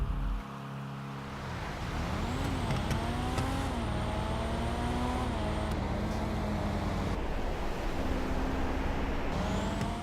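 Cars race in the GTA 5 video game, a Vamos among them, with a loud continuous engine drone whose pitch rises and shifts as gears change, plus brief whooshes and clatter, no voices.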